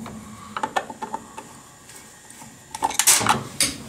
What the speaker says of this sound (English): Take out the screws.